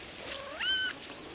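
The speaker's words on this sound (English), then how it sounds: "He has the most interesting little meow that he does for attention" A pet cat lets out a single short, rising meow for attention, faint and close in a quiet indoor room.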